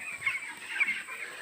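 A dense flock of 19-day-old chickens in a poultry farm shed keeps up a continuous, fairly faint chorus of high peeps and clucks, with no talking.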